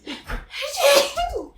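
A single sneeze bursts out midway, with breathy vocal sounds and a brief gasp around it, fairly close and moderately loud.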